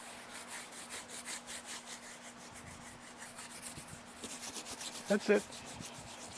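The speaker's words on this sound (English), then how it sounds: "Just rub the top of his shell" Hand rubbing the top of a giant tortoise's shell at a tortoise farm, a rhythmic dry scraping stroke repeated steadily, with a brief spoken remark and a louder bump near the end.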